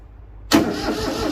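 A smoking, hard-starting Daedong 19 hp tractor more than thirty years old fires up abruptly after a quiet moment, then keeps running with a loud, rough close-up engine drone.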